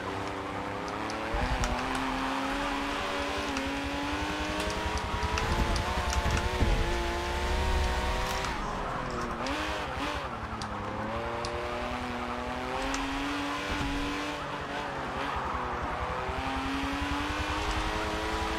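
Porsche race cars lapping in Forza Motorsport 4, their engines droning and shifting pitch continuously as several cars pass close together, with occasional tyre squeal, loud and with no talk.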